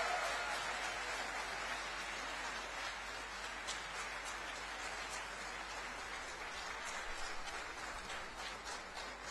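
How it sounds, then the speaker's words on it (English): Faint, steady applause from an audience welcoming guest speaker Dr. Subramaniam Jaishankar at an event on India's foreign aid, a soft, even wash of clapping that runs throughout without a break. "Please give a round of big applause for him."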